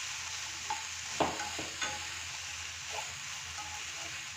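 Fresh garden broccoli fries quietly in a pan over a soft steady sizzle, with a few scattered scrapes and knocks as it is stirred.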